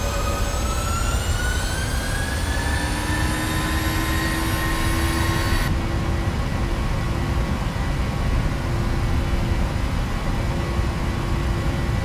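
Air Berlin Boeing 737-800 jet engines spooling up to takeoff thrust for departure from Innsbruck, a loud steady roar with rising whine tones that level off and hold.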